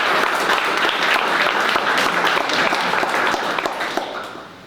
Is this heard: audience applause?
yes